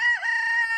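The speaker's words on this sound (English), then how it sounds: "my lovely rooster" A rooster crows in a garden, one loud sustained call filling the short moment, close by and alone with no talk.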